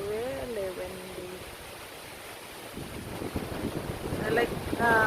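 Strong wind in the Philippines roars steadily as broadband rumble across the whole clip, growing louder and gustier toward the end, with a voice speaking over it at the start and again briefly near the finish.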